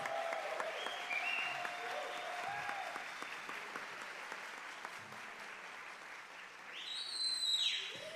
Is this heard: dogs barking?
no